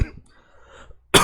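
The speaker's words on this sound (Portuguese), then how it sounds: "Desculpa, tá tossindo." A single cough rings out at the start, followed by near silence, then a second sharp cough bursts in at the end, close and fairly loud, with no talk.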